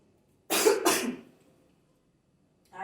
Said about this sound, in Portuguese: Ai, gente, essa tosse não me deixa.